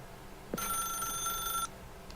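Telephone bell ringing in the video game The Stanley Parable Ultra Deluxe: a single electronic ring burst of about a second, bright and clear, alone over a faint background hum.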